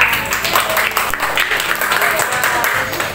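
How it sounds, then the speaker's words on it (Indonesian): Students in a classroom clap together in a brief burst of applause, with children's voices mixed in throughout. "Ya, tepuk tangan buat Adria."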